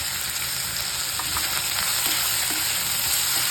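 Roasted peanuts sauté in a pan for upma with a constant frying sizzle and faint stirring scrapes, with no speech.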